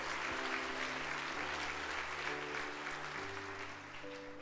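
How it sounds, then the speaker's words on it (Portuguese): Congregation clapping for Jesus at a Sunday church service, a steady wash of applause holding for several seconds, with sustained organ or keyboard tones sounding beneath it. "Deu mais uma salva de palmas para Jesus"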